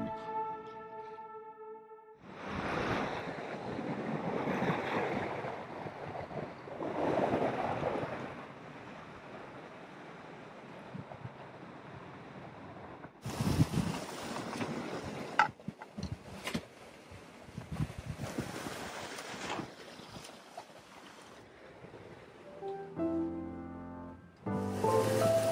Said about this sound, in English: We're motoring into the night with the roar of the diesel engine serenading us to sleep and through our watches.